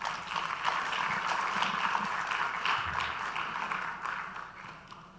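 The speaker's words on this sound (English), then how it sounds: "A round of applause." Applause from an audience at the African Leadership Forum in Accra, Ghana, a steady moderate clapping that swells briefly then gradually fades.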